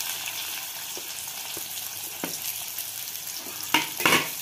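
Chopped onion sizzles in hot oil with cumin, mustard seed and asafoetida, a steady close frying hiss broken by a few sharp spatula scrapes and a louder burst of stirring near the end, with no voices.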